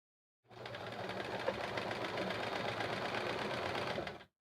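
A sewing machine runs steadily during free motion quilting, its rapid, even needle chatter lasting about four seconds close to the listener before it stops, with no talking.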